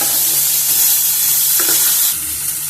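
Herbs and ridge gourd peel fry in an oiled pan, a steady loud sizzle throughout, with a brief scrape of stirring midway and no talk.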